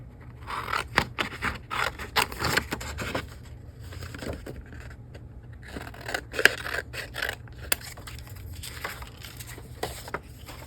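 Scissors snip and trim paper for a mixed-media craft page, a series of close, crisp cuts and scrapes in an irregular rhythm with short pauses, no talking.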